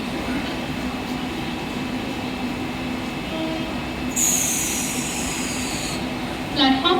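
A slow local train bound for Kalyan pulls into platform 1 at a Mumbai suburban station at night, a steady rumble with a long high wheel squeal midway and brief squeals near the end, under distant platform noise.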